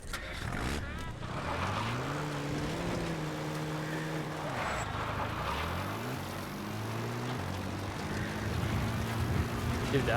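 A Metal Gear Solid V support helicopter approaching the landing zone, a droning rotor and engine hum whose pitch rises and dips as it arrives, steady and moderately loud with a voice talking over it.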